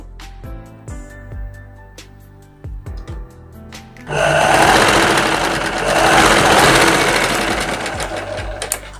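A sewing machine stitches a folded strip of blouse fabric, first starting and stopping in short needle thumps, then running into a loud, continuous whirring hum close by.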